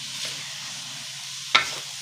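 Bitter gourd (ampalaya) hits a hot pan with ground pork, giving a short sizzle and stir, with a sharper scrape of the ingredients near the end; no talking.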